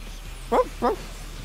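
Two short, evenly spaced dog barks from the Final Fantasy XIV game, clear and mid-distance over a quiet low hum.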